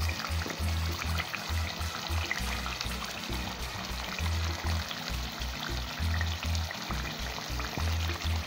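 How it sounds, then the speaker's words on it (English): Banga palm fruit extract boiling in a pot for palm fruit soup, giving a steady bubbling, gurgling churn with a low, uneven pulse that runs throughout without talk. "with the Banga extract boiling, that's the palm fruit extract boiling"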